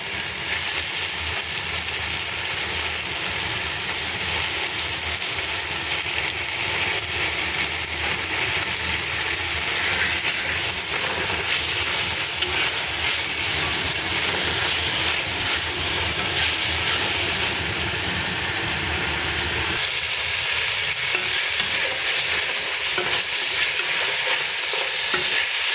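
Chicken breast frying in a pan for pansit bihon, a loud, dense, steady sizzle with occasional stirring, continuous and close throughout, without any talking.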